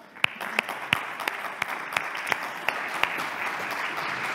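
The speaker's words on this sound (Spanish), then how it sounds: "pido desde ya un fortísimo aplauso" Audience clapping at an artificial intelligence and justice public services conference session, a steady moderate wash of many hands with a few sharper individual claps standing out, continuing alone with no talk.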